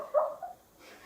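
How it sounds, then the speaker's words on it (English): A sleeping dog lets out a couple of short, soft muffled yips or whimpers, close but quiet in a calm room. "The dog is laughing in his sleep."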